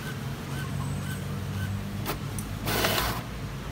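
A Brother MFC-T800W inkjet printer prints a nozzle check test page with soft mechanical whirring and ticking, then brief louder bursts of the print carriage moving near the end, close by and with no voices.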